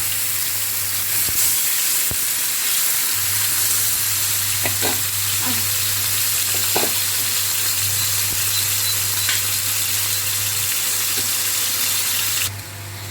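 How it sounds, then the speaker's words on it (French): Steady loud sizzling of chicken frying in hot oil in a pan, with a few scraping stirs of a spoon against the pan. "Là, je vais mélanger avec une cuillère."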